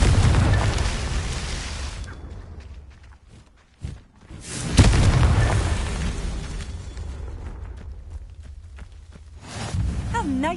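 Confringo fire spell exploding in Hogwarts Legacy: loud booming blasts with a rushing whoosh, one near the start and a bigger one midway that decays slowly, separated by a brief near-silent gap.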